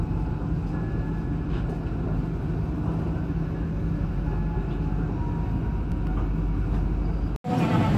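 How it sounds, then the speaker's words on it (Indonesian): Berantas passenger train running after departing Pekalongan station, a steady low rumble and rolling drone heard from inside the carriage, continuous and fairly loud, with a brief dropout near the end. "kereta api berantas diberangkatkan kembali dari stasiun Pekalongan"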